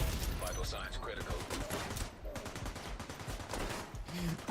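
Mortar fire in The Division 2, a rapid burst of heavy explosive blasts and gunfire-like cracks filling the whole clip, loud and dense, with game sounds and a faint voice mixed in.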